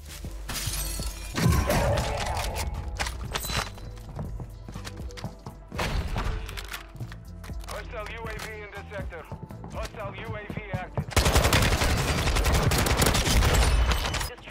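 VEL 46 submachine gun fired in the video game Modern Warfare II, several rapid automatic bursts with sharp cracks and game effects, interleaved with a player's voice and ending in a loud dense flurry.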